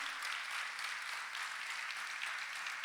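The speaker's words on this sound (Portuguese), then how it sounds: "Você consegue aplaudir ao Senhor pela sua palavra agora?" Steady applause from a church congregation fills a sustained wash of clapping hands, fairly soft and even, with no voices standing out.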